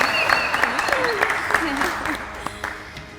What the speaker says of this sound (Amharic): ይሄንን ሞቅ ባለ ጭብጨባ አበርክቱልኝ እባካችሁ